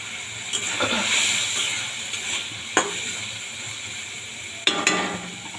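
Masala and fried potatoes are sautéed in a pan, giving a continuous hissing sizzle with a few sharp clanks of a spatula against metal, close and moderately loud.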